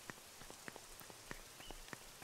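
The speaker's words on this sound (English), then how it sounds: "Is it because it's raining?" Quiet rainfall in the video game The Good Life, soft irregular drips and taps of raindrops pattering on surfaces, low in level with no speech.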